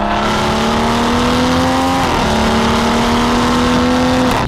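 Loud exhaust of a car fitted with a non-resonated performance mid pipe and Touring Edition exhaust, revving steadily and then dropping pitch sharply as it is knocked down a couple of gears with paddle shifters, climbing again with a final throttle blip.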